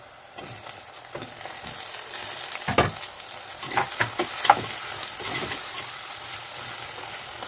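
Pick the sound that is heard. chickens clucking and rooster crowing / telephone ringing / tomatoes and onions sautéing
tomatoes and onions sautéing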